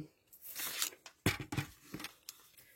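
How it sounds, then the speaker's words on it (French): Paper trimmer slicing a sheet of vellum for a card, close and crisp, with a few sharp tearing-like strokes and rustles over about three seconds, no talking. "je prends mon massicot"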